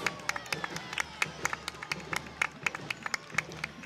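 Scattered hand claps from a modest outdoor crowd lining the street at a 2014 homecoming parade, sharp irregular slaps spread over a few seconds, fairly distant and not very loud.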